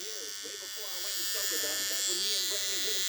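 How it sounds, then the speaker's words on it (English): A small Quilt-A-Day electric seam ripper buzzes steadily close by, a thin continuous motor whine that swells slightly louder partway through while someone talks over it. "I have this little Quilt-A-Day electric seam ripper"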